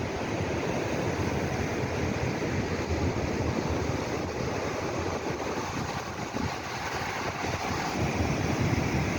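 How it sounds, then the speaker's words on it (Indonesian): Big, strong Indian Ocean waves at Molang Beach, a continuous broad roar of surf with wind rushing across the microphone, steady and loud throughout with no voices. "Itu sebabnya ombaknya besar dan kuat, terasa sangat liar dan alami sekali."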